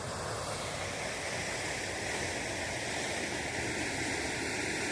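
Water from the Lower Manair Dam at Karimnagar pours through the crest gates into the Kakatiya canal, a steady, loud, unbroken roar of rushing water with no voices over it.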